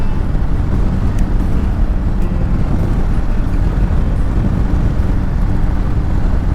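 A Harley-Davidson Sportster motorcycle cruises along with a steady, loud engine drone heavily mixed with wind rush, continuous and unchanging throughout.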